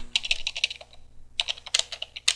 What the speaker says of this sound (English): Let's type in logger.